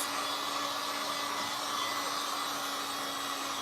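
Hair dryer blowing to dry coats of craft paint on a DIY Dollar Tree frame candlestick: a continuous, even whirring roar, close and steady for the whole stretch, with no voices.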